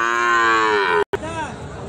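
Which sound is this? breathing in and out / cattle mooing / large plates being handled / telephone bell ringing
cattle mooing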